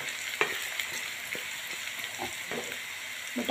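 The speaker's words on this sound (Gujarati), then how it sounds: "આપણે બટાકા શેકાવા આવી ગયા છે તેલના અંદર" Potatoes fry slowly in oil over low heat, a faint continuous sizzle with occasional light knocks from stirring, and no talk.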